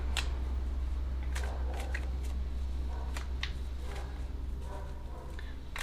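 Tarot cards are shuffled and drawn by hand, giving soft papery flicks and snaps at an uneven pace over a constant low hum in the room.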